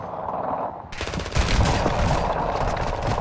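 Sustained automatic gunfire from a gun in the video game Warzone, a dense rattling burst that grows louder after a short quieter lead-in and keeps going to the end.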